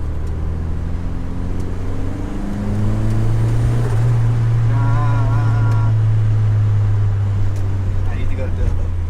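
A VW Mk2 with a turbocharged 1.8T engine driving, heard from inside as a steady loud low engine drone with rising and falling tones, with people talking over it.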